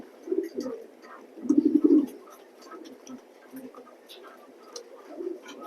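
Pigeons coo in a pigeon loft, a few brief throaty bursts near at hand, the strongest around the middle, with someone speaking nearby.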